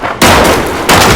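Two loud, close gunshots crack in Call of Duty Modern Warfare, the first a long blast with a decaying tail and the second hitting near the end.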